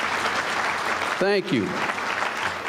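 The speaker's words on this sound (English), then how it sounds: "let's give a hand to the MSA for putting this together." A lecture-hall audience applauding a student association, steady dense clapping throughout, with a man's brief spoken thanks heard over it.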